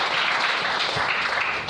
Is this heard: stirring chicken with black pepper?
no